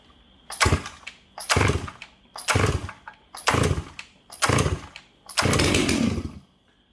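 A ported Stihl MS 660 chainsaw with a freshly cleaned carburetor is pull-started six times in a steady rhythm, each pull a loud, close rasping burst of the recoil and engine turning over, without catching into a run.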